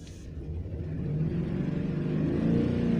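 A Ford Expedition engine running rough and misfiring, a steady low rumbling idle with uneven pulsing that grows slightly louder, heard close up with no talk.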